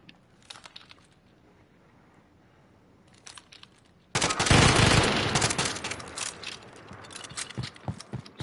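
Video game gunfire: a few faint distant shots early, then a sudden loud close burst of rapid fire that tapers into scattered shots, with no talk over it.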